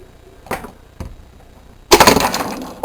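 Plastic Jurassic Park adult Pachycephalosaurus toy from the Lost World Series 1 line, its head-butt action feature snapping with two light clacks followed by a loud crunching, clattering burst of impact.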